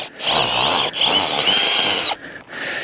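Power driver whirring as it backs ground screws out of the soil during a Kodiak canvas tent takedown, loud close revving in two long bursts with short gaps, no talking.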